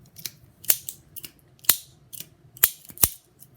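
Scissors cut open miniature Shopkins toy packaging in a quick series of sharp, close snips, about five distinct cuts with quieter clicks between them.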